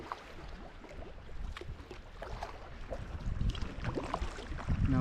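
Sea kayak paddling into an old harbour off the Isle of Mull: water sloshes and splashes around the hull, with irregular paddle dips and drips under a steady wash of wind noise, growing somewhat louder toward the end.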